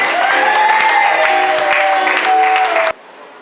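A church congregation at a wedding service in Poitiers claps together in steady, dense applause for about three seconds, with a sustained sung or held tone riding over it, then the sound drops abruptly to near silence.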